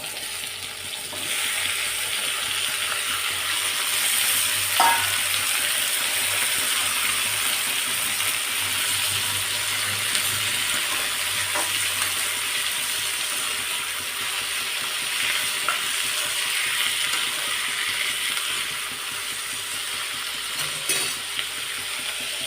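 Thinly cut, firm half-ripe tomatoes frying in a pan for an onion-tomato chutney, with a continuous loud hissing sizzle and occasional faint stirring clicks throughout.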